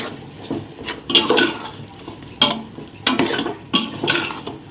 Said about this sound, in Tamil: அடுத்தது கரம் மசாலா போட்டாச்சு இதை வந்து நல்லா மிக்ஸ் பண்ணணும்